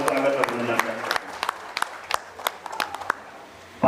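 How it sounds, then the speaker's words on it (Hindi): Audience applause at a BJP political gathering in Chinhat ward, Lucknow, scattered sharp claps rising out of a murmuring crowd, with voices talking over the clapping throughout. "बस जोरदार तालियों से आपका जो है स्वागत अभिनंदन करते हैं।"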